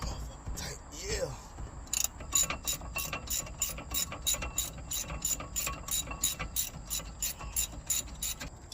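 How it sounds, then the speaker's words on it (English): A ratchet spins out the last bracket bolt during an axle and brake job, giving a close, rapid, regular train of metallic clicks after a brief clunk and scrape at the start, with faint voices underneath. "That's all I'm doing is taking that last bolt out."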